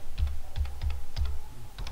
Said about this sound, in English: Press Shift plus on keyboard for the changing